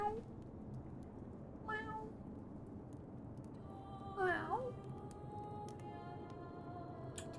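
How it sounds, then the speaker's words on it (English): A cat meows outdoors, two faint, drawn-out wavering cries a couple of seconds apart, heard at a distance over a steady low background hum. "There's a cat outside just lounging around."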